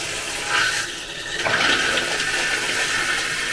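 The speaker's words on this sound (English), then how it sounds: "The shower head, let's see how strong it is." A hotel shower head in a tub-shower bursts on and sprays water at strong pressure, a close, loud, steady hiss that surges in the first second and a half and then holds evenly.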